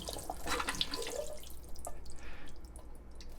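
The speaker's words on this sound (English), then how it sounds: "we're gonna open our can and drain and rinse the chickpeas" Tap water runs over canned chickpeas being rinsed in a sink, making a soft, faint splashing and dripping for a few seconds with no talk.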